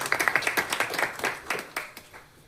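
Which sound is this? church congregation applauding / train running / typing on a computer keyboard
church congregation applauding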